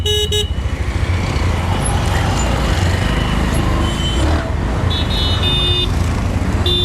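A Bajaj Pulsar NS 125 ABS naked sport motorcycle, 2025 model, rides on a test ride: a steady, loud engine and road roar throughout, with brief high horn-like tones from nearby traffic partway through.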